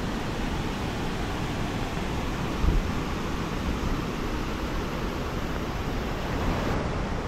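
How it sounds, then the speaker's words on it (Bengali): Water of Sita Falls near Ranchi plunges from a height, producing an even, broad rushing roar that stays constant throughout, with no talk. "দেখুন সীতা ফলসটা কিন্তু বেশ উঁচু থেকে পড়ছে"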